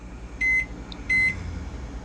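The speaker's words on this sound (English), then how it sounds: "This is a 900 watt microwave, by the way" A 900 watt microwave oven gives two steady tonal beeps as it is set, over a low running hum with no one speaking.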